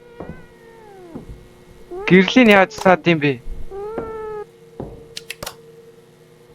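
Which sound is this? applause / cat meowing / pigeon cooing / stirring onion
cat meowing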